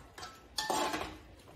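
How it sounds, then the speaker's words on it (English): Noodles and soy sauce are stirred in a pan, with a few utensil scrapes and clinks against the metal. The sounds are soft and close, come in two or three brief strokes, and play with no talk. "And then you stir it."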